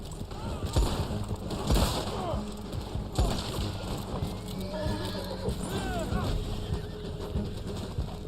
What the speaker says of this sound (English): my horse was just being dumb